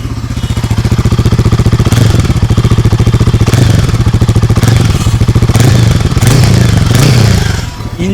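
A Royal Enfield Guerrilla 450 motorcycle engine runs loud and close, with a steady thumping idle and repeated throttle blips that swell and fall over several seconds, and no talking.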